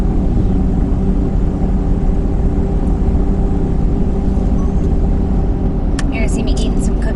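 A Ford F650 dump truck with a V10 engine climbs a mountain road, its loud steady engine drone and road rumble heard from inside the cab, with people talking over it.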